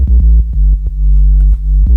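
Two layered synthesizer oscillators play a rhythmic, buzzy bass pattern for a lo-fi boom bap beat, loud and close, with short pulsing notes repeating throughout.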